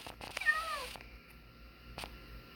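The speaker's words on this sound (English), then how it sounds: "go away, little cat. Poor cat." A cat in the video game Minecraft meows clearly twice, a short rising-falling mew followed by a fainter second call about a second and a half later, close and alone.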